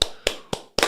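Four sharp hand claps in an uneven rhythm, close and loud, each with a short decaying tail and the last one slightly doubled.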